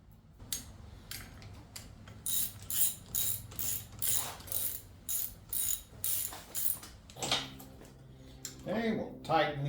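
A ratchet tightens the bolts on a new water pump on a Ford 8N tractor, with bursts of quick clicking close by. The bursts are separated by brief pauses, and someone speaks briefly near the end.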